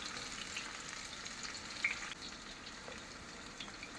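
Chopped onion frying in a pan of oil for Jamaican curry shrimp, a steady broadband sizzle with soft crackles and pops that holds evenly throughout, with no talking.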